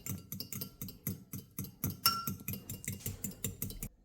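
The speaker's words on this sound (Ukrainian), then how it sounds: "Збиваємо два яєчка." Two eggs being whisked for an omelette, a close, brisk run of rhythmic clinks and taps of a utensil against a bowl, even and quick, with no voices.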